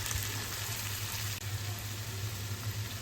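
Onion and ginger-garlic paste fry in hot oil in a pan while cooking pangas fish bhuna, giving a steady, close, continuous sizzle with no voices over it.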